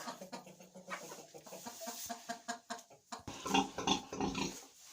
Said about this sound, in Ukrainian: А ось я прийшла до наших поросяток